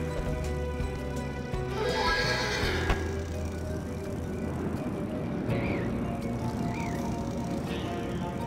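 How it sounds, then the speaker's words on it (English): A horse whinnies twice amid video-game background noise in Voodoo Vince Remastered on Xbox One, with a steady low hum and faint rhythmic hoofbeats. "Let's get back to the horse."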